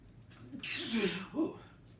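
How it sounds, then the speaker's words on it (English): A single close sneeze, a sharp breathy burst with a short gasp before it and a second smaller exhale right after. "So, about to sneeze."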